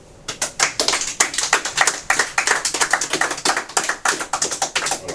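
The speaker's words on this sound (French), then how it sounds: "On peut s'applaudir quand même." Irregular hand clapping from a small group, a football team applauding itself, with sharp overlapping claps at varied pace that stay close and loud throughout.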